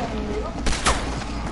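Gunfire in the Fortnite video game cracks out as a couple of sharp, loud shots in quick succession over a dense background of game noise.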